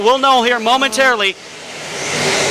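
A voice comments briefly, then the engines of A-Mod modified race cars on an oval track swell into a steadily rising, broad roar as the pack comes closer.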